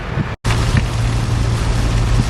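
Heavy rain pours steadily in the Florida Everglades in December. A loud, dense, unbroken hiss with a low rumble underneath is cut by one brief dropout, then the downpour carries on unchanged.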